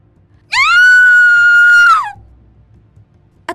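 A girl's single loud, sustained scream rises sharply, holds for about a second and a half, then trails off, alone over a low background rumble.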